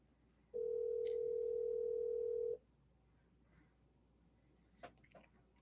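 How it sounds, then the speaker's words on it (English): Outgoing call to a realtor produces a single steady ringback tone lasting about two seconds, fairly loud over a quiet room, followed by faint clicks and rustling. "I'm going to triple dial them."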